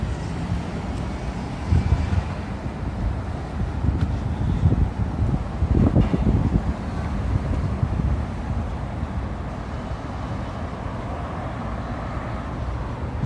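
Steady wind buffets the microphone with a low, continuous rumble in the Stadium District of a Canadian city, swelling in gusts midway through, with no voices.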